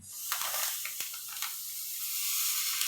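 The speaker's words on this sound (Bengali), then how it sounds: "প্রথমে আমি একটা কড়াই বসিয়ে দিলাম তার মধ্যে দেবো তিন প্যাকেট সুজি" Three packets of dry semolina pour into a wok in a soft, steady granular hiss, with a few light taps and scrapes, close and without talking.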